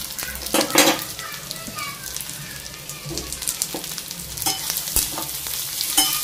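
Red lentils are stirred into fried onion and garlic in a pan, with loud sizzling, scraping and clinks of a utensil against the metal in irregular strokes.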